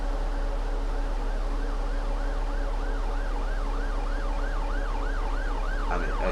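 An ambulance siren in the Omsi 2 bus simulator game wails in a steady rising-and-falling cycle, moderately distant, over a constant low engine hum, with no talking.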